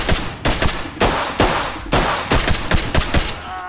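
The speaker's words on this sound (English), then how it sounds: "These guys are just shooting everything that moves over there?" Gunfire in the tactical shooter game Ready or Not, with loud, close bursts and single shots cracking out in rapid, irregular volleys that follow one another almost continuously.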